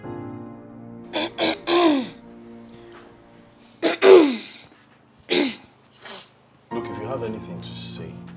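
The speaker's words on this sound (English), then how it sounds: "Clearing your throat for the past 2 minutes." A person clears their throat several times in short, raspy bursts separated by pauses, close up, with a voice at the end.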